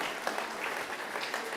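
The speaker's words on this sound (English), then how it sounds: "Dr. Korczak Ziolkowski, giving you a warm round of applause." An evening audience at a talk on carving the Crazy Horse Memorial gives a warm, sustained round of applause, with even, continuous clapping from many hands and no speech.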